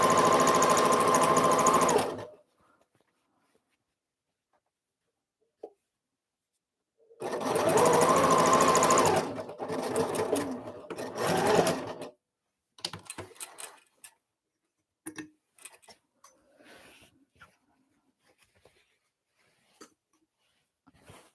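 Home sewing machine of industrial-style build stitching down fabric for an embroidery sample, running in loud steady bursts of rapid stitching, a long run, a pause, then two more runs, followed by scattered faint clicks and handling noises.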